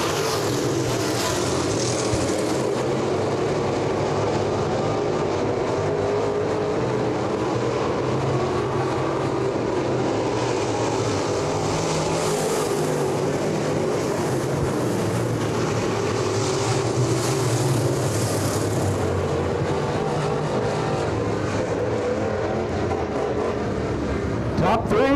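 Crate Late Model race cars on a dirt speedway on the final lap, a loud steady roar of engines that swells and fades as the cars pass, with an announcer talking over it throughout.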